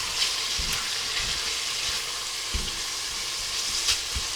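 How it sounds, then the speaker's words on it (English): Ingredients for chicken soup frying in a Cosori pressure cooker, giving a steady broadband sizzle throughout with a few soft stirring knocks and clatters, fairly close and moderately loud, with no talk. "I'm just frying that off."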